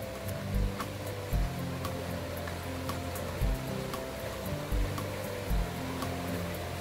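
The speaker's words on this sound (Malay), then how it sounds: "Depan dia sungai." A river flows steadily beside a shaded campsite ringed by bamboo, its broadband water wash continuous and moderately loud, with a few low thumps breaking through.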